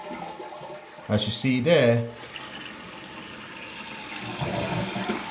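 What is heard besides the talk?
toilet flushing after installing new toilet kit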